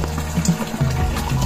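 Water runs steadily from a village water spout in rural Nepal, a close, continuous splashing flow with no talk over it.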